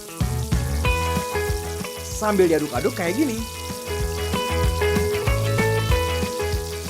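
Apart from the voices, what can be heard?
marinated chicken frying in hot oil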